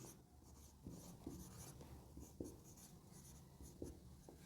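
Pen writing on paper during a maths class, a steady soft scratching with a few sharper strokes and taps at a close, quiet level, with no talking.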